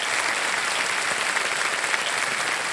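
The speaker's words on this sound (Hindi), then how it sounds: "जोरदार तालियां बज जाए इनके लिए" Steady, dense applause from a studio audience on the KBC quiz show, loud and unbroken for the full stretch, with many hands clapping together and no voices on top.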